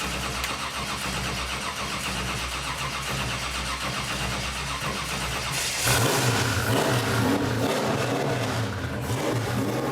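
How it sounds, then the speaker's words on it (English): A truck engine is cranked over for several seconds with a steady mechanical churn, then fires up around the midpoint into a louder, rough running idle with a few rising revs, close by and without talk. "All right, Matt, I'm going to just spin it over for a little bit, make sure we got oil pressure, and then I'll flip the switch"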